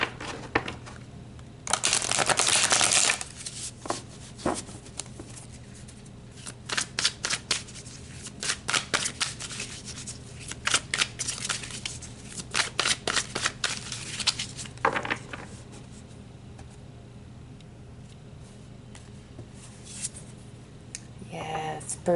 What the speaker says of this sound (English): So let's pull some more tarot